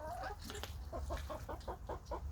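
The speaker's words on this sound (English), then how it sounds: "So I need to monitor these chickens where they are laying their eggs" Backyard chickens give a quick series of soft, close clucks, about six rhythmic notes in a row, over low background noise.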